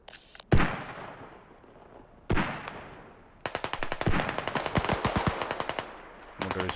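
Video game battle gunfire: a few loud single shots ringing out, then a long close burst of rapid automatic fire and a final flurry.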